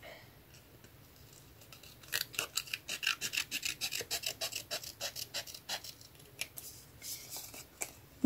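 Scissors snip through vintage scrapbooking card in a quick run of about fifteen close, crisp cuts in steady rhythm, after a quiet start, with a louder bump right at the end.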